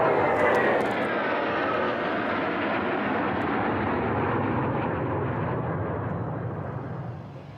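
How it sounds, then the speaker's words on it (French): Algerian military jets passing over the Mali border area, a loud broad roar that holds steady for several seconds before slowly fading as the aircraft move away. "les jets algériens violeront à 2 reprises l'espace aérien du Mali"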